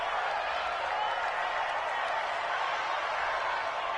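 A large stadium crowd in an American football video game roars and murmurs in a steady, dense wash of noise, with faint clapping mixed in throughout.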